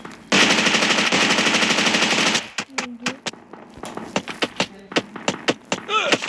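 Rapid, loud machine-gun bursts from a video game fire in one sustained stream, followed by separate sharp single shots and short volleys at close range, with a voice talking between them.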